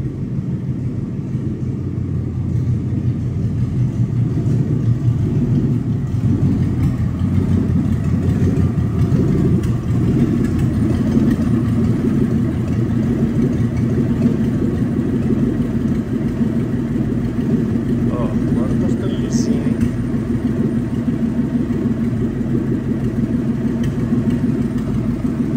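A Ford Maverick fitted with a V8 engine runs steadily during carburetor tuning, a loud, continuous low rumble with a constant idle throb and no talk for about 25 seconds.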